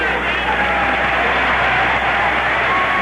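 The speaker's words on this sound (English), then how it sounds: "getting a round of applause" Crowd at a 1972 Opening Day baseball game between the Reds and Dodgers applauding a player coming up to bat, a steady, dense wash of clapping and crowd noise throughout.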